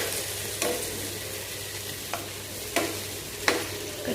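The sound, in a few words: red chilli, onion and tomato frying in oil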